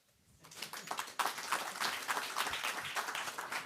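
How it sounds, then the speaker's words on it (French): Audience applause at a talk on human kinship, starting faint and quickly swelling into steady, fairly distant clapping that continues throughout. "Le tout, bien sûr, sous vos applaudissements."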